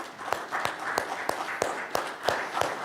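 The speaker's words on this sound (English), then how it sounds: "could you stand up and we could give you a round of applause" A small audience gives thin, faint applause for the mothers at a Mother's Day gathering: a handful of claps in a steady, evenly spaced rhythm with soft room noise between them.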